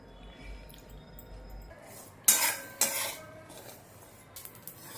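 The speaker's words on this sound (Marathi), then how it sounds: "आपण हे शेंगदाणे त्यामध्ये टाकून भाजून घेऊया" Peanuts roast in hot salt in a kadhai, with sharp metallic scraping and clanking of a spatula against the pan in a few loud bursts over a quiet background.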